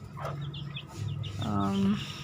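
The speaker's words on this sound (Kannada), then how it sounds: "ಕೋಳಿ ನೋಡಿ ಎಷ್ಟೊಂದಿದ್ದಾವೆ." Chickens cluck and murmur nearby in a morning yard with many birds, short soft calls scattered over a low background hum, with a voice briefly heard.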